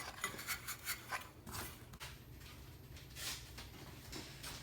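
Sandpaper rubbing scaly rust off the clutch sheaves of a Yamaha Zuma scooter, a faint, quiet series of rasping back-and-forth strokes, several quick ones at first, then slower, longer scrubbing.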